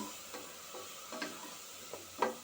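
Tomatoes and soy sauce for pasta are stirred in a pan with faint sizzling underneath, a handful of soft scraping strokes spaced irregularly, close and quiet.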